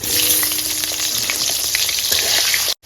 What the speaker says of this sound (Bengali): এবার আমি এই তেলের মধ্যে আলুগুলো ভেজে তুলে নেব